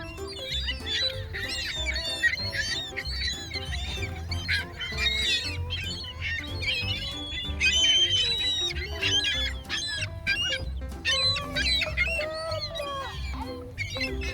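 A dense flock of gulls in a park calls nonstop, with overlapping squawks and honking cries close by and a steady low rumble beneath, while a few voices talk faintly.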